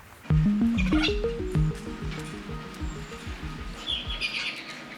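A series of rapid, stepped parrot calls, squawky chirps rising and falling in pitch, loud and close, followed by softer chatter and higher squeaks.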